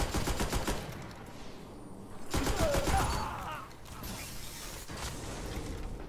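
Rapid gunfire from Destiny during an Iron Banner Control match, a quick burst of shots followed by mechanical clicks and another burst over steady game noise.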